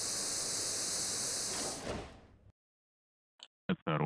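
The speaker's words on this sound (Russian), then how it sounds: "Осторожно, двери закрываются." Subway train doors on a Rusich train in the Moscow Subway Simulator 2D game give a long pneumatic hiss that ends in a dull closing thump, followed by silence and then the start of a voice.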